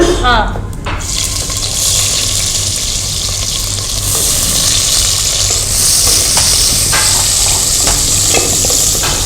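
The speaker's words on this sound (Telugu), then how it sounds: "ఈ ఆనియన్ మనకి బ్రౌన్ కలర్ వచ్చేంత వరకు కూడా వేగించుకోవాలి" Sliced onions fry in hot oil in a pan with cinnamon, cloves, cardamom, star anise and shahjeera for a Guntur mutton pulao. The sizzle is loud, steady and close, with stirring scrapes throughout.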